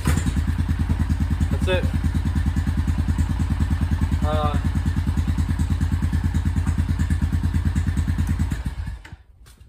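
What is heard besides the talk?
1997 Honda Foreman 400 4x4 quad pull-started, engine running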